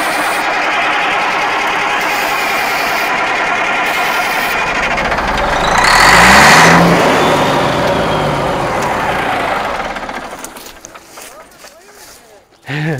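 An old Western Star truck left to rot, its diesel engine cranking and running rough with a steady loud drone that swells midway and then fades and stutters, while people talk over it.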